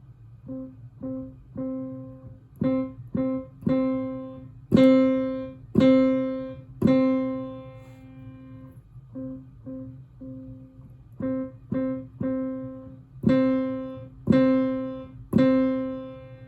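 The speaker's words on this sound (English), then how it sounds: "I'm going to play Middle C March for you" A piano plays the beginner piece Middle C March from Faber Piano Adventures: a simple melody of single notes with repeated strikes in a steady marching rhythm, each tone ringing clearly, alone without voices.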